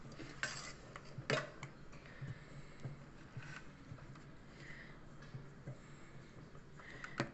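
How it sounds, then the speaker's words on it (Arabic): A utensil mixes mousse ingredients in a bowl, light clinks and taps against the dish scattered over a quiet background, with one sharper knock early on. "صافي وغادي نخلط الكل"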